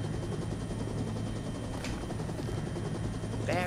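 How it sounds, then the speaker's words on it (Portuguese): A helicopter with pink rotor blades in the Final Fantasy VII video game gives off a continuous rapid rotor chop, loud and steady throughout with no pauses. "Helicóptero da hélice rosa"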